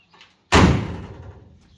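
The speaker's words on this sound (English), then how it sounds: "Show them how the door shuts." A Volkswagen Beetle car door under restoration slams shut once with a sharp, solid thud that rings briefly and decays, close and loud after a moment of near quiet.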